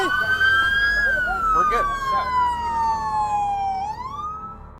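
A police patrol car siren wails loudly and nearby, sweeping in pitch up and down over engine and road noise, while someone says a few words under it.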